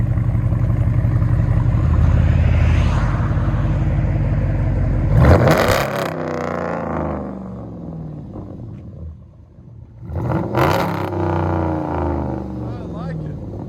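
A 2012 RAM 1500 with a 5.7L HEMI V8, true dual exhaust with resonators kept and mufflers deleted, idles with a deep rumble and then gives two sharp revs, with a voice speaking over it.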